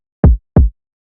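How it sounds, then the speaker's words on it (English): Two punchy modern trap kick drum hits, deep and booming with a sharp attack and short tail, land close together, loud and dry with nothing else around them. "get a more of a modern trap kick sound like this"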